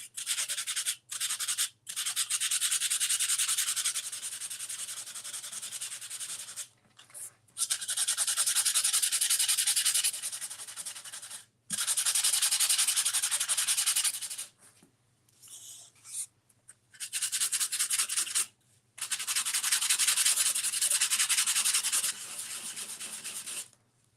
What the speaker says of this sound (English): So you definitely want to sand it.